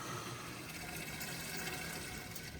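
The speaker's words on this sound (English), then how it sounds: "Filling water tank now." Water pours steadily into a camper van's water tank, a constant broadband rushing hiss without breaks, moderately quiet and close.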